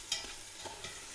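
Soft sizzling and stirring as brown sugar briefly caramelizes in a pan, a quiet frying sound with light scraping taps.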